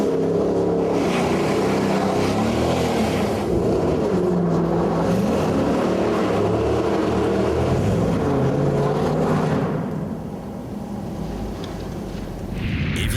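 A black Jaguar XKR with a 510 hp engine warms up in a dim hangar, its loud, continuous roar revving and surging, then easing to a lower idle-like growl for a moment before picking up again.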